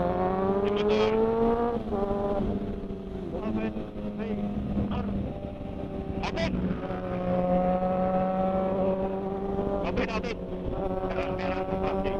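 A motorcycle passes close on an open road during a Friday group ride, its engine loud and revving, the pitch climbing and dropping across several gear shifts, with other engines droning beneath and faint voices now and then.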